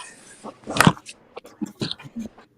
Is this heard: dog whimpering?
yes